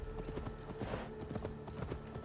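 Horse hooves clip-clopping in Assassin's Creed Valhalla, a steady trotting rhythm of close, crisp hoof strikes with a faint background hum and no talk.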